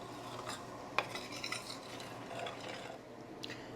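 Flour cooks in a pan at the start of a cream sauce for chicken meatballs, a faint sizzle with scraping stirs and a light clink of a utensil against the pan, close and quiet.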